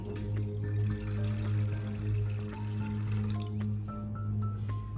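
Water pours and trickles into an urli bowl holding flowers, a soft, steady splash heard beneath a sustained, humming tonal background.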